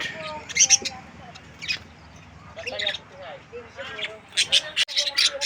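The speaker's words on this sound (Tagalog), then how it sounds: "mga ibon" Small lovebirds and other little birds chirp and squawk in repeated bright bursts, moderately close, with a voice talking among them.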